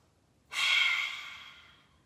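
A single deep, breathy inhale during yoga breath work, rising sharply and tapering slowly over about a second and a half, close and clear against quiet room tone.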